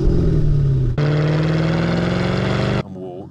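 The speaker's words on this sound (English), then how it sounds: "it's got an aftermarket exhaust system on it, which sounds absolutely incredible" A Mercedes-Benz SL500 5.0 V8 growls at idle, then surges into a loud, sustained rev with a deep raspy note through an aftermarket exhaust before dropping off abruptly.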